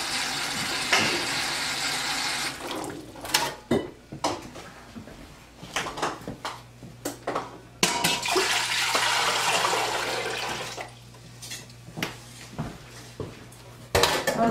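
Hot water running from a kitchen tap into a container for carrot canning brine, a broad gushing stream in two long stretches, broken by clattering pots, dishes and utensils handled nearby.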